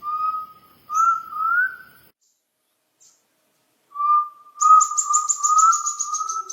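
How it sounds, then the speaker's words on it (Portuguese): An undulated tinamou (jaó) sings in a forest: a few pure, mellow whistled notes, a pause, then a longer series of rising whistles, clear and moderately near with no voices. "Eu particularmente gosto muito do canto do jaó."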